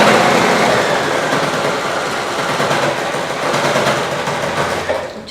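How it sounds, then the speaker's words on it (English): A sewing machine back-stitching the corner of a patchwork cushion gives a loud, close, continuous whirring rattle that holds steady for several seconds before cutting off. "I've just done a few back stitches there to lock the stitches"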